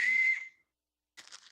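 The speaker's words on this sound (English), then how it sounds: "It's not a little light, it's a whistle." A small safety whistle for boating and kayaking gives one loud, shrill blast of about half a second, then silence and a shorter, breathier burst.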